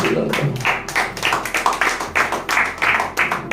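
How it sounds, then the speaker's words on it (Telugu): A congregation at a church gathering claps hands together in a rhythmic burst of repeated claps, fairly loud and close. "చప్పట్లు కొడదాం ఒకసారి."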